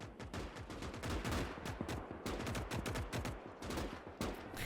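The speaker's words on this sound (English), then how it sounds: "Here come the guns." Rapid rifle and machine-gun fire in the WWI-style strategy game Gates of Hell, dense overlapping bursts and cracking shots rolling continuously at mid distance.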